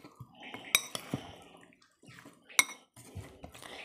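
Chia seeds, oats and mixed fruit stirred in a bowl, close clinks of a spoon against the dish in sparse bursts with soft wet mixing sounds between them.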